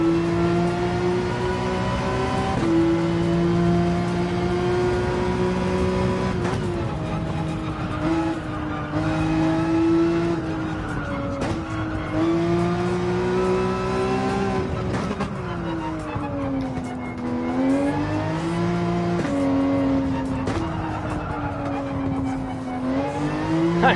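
A Porsche 911 race car in Gran Turismo 7 at Interlagos revs loud and close without pause, its engine pitch climbing and dropping through gear changes and braking, with brief tire squeals under hard cornering.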